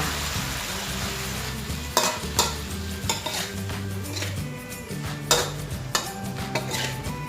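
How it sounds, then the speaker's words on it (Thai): Asparagus and crispy pork being stir-fried in a pan, with metal spatula scrapes and clanks striking in an irregular rhythm over a continuous close sizzle. "ใส่หมูกรอบลงไปค่ะ แล้วก็ผัดให้เข้ากัน"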